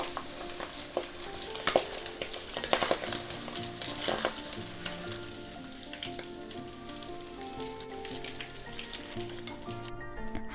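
Food frying in hot oil, continuous crackling sizzle with sharp spatters and stirring clatter, close and steady throughout with no talking.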